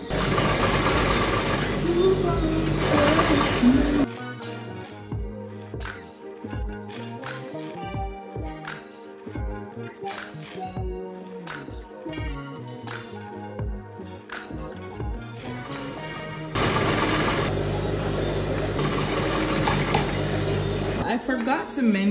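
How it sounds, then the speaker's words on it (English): A sewing machine stitches a zipper to pants in short bursts of rapid mechanical whirring between pauses, close and clear, framed by louder stretches of music at the start and end. "I'm going to stitch the zipper to the pants"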